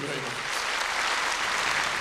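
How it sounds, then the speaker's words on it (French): A concert audience applauds after a tenor's performance with a choir, a dense, loud, continuous roar of clapping with murmured voices mixed in. "Le public applaudit"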